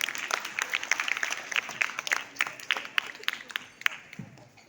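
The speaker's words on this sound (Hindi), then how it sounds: "जोरदार तालियों के साथ स्वागत कीजिए।" A small gathering at a Navy House weekly performance review claps to welcome a speaker, with distinct scattered hand claps in an uneven, sparse rhythm, fairly close and tapering off.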